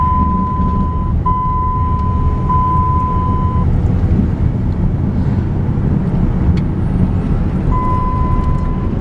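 A pickup truck with about 178,000 miles driving on a mountain ranch road, steady loud engine and road rumble with wind buffeting, and an intermittent dinging chime sounding over it.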